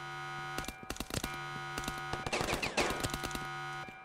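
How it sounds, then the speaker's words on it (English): Enemy gunfire in Ravenfield, sharp crackling shots in irregular bursts, some close and loud, others quicker and clustered, over a steady game hum with no talking. "Oh, you and your loud guns."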